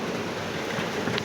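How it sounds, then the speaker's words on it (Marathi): Rain falls outside as a steady, even hiss with no breaks in it for the whole short stretch. "बाहेर छान पाऊस पडतोय"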